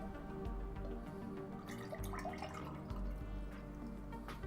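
Water runs into a container at home in a steady, close trickle with splashy, bubbling texture and a slowly shifting pitch as it fills, continuous throughout.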